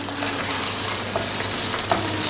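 Chopped onion fries in hot oil in a pan with green chillies, a loud, dense, continuous sizzle with faint stirring clicks, no voices.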